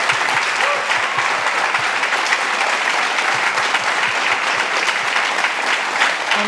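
A theatre audience at a dance show in Bermuda gives a loud, full round of applause, a thick, continuous roar of many hands clapping at steady intensity from start to finish.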